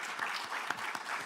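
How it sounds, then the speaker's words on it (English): A formal launch event for Ghana's sustainable finance roadmap, where the audience offers a welcoming round of applause. The clapping is soft and distant but continuous, with a few sharper individual claps standing out. "Please make them welcome with a round of applause."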